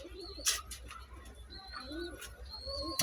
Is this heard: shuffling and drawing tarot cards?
no